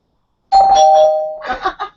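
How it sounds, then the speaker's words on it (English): A doorbell rings once outdoors: a loud, close, sustained electronic chime tone that starts abruptly, followed by a few shorter, choppier tonal notes as it fades. "The bell out here."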